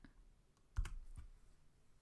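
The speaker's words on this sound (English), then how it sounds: "Now I'll type bash resetexamples.sh and run it." Soft clicks of keys typed on a computer keyboard while entering a bash command, a short quick burst of a few keystrokes, close and faint in a quiet room.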